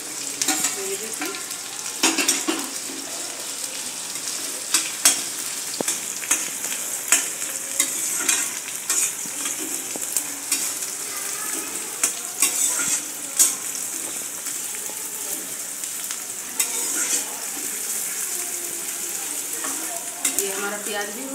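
Steady sizzling of onions frying in a hot pan for an okra curry, with occasional stirring scrapes and clicks throughout.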